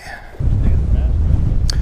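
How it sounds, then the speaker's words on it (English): Strong wind buffeting a microphone out on a fishing boat, a loud low roar that starts abruptly and persists steadily, with a faint voice underneath. "I heard that, super windy"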